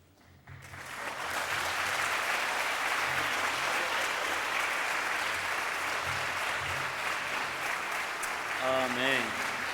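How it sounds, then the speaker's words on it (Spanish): A church congregation applauding at the close of a service, sustained loud clapping from a full room that holds steady for several seconds before a voice begins speaking over it. "Ese aplauso debe ser con toda la fuerza y agradecimiento a nuestro Padre Celestial."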